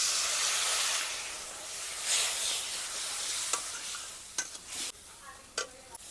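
Powdered chilli, coriander and cumin frying in oil in a village-style pan for a crab curry give a dense sizzling hiss, which surges as water goes in, followed by a few clinking stirs near the end.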